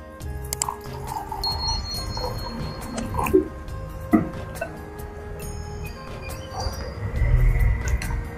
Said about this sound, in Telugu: ఇప్పుడు కొన్ని వాటర్ పోసుకుంటా కలపాలి దీన్ని.